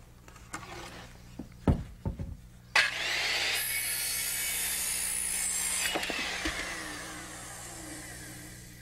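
A circular saw set to an 18.5 degree bevel cuts through wood while framing a roof. A few knocks and handling sounds come first, then a loud, steady cutting whine runs for about three seconds before dying away.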